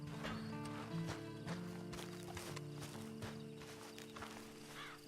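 Horse hooves clip-clopping in Red Dead Online, a faint, steady series of hoof beats at walking pace under low background music and ambience.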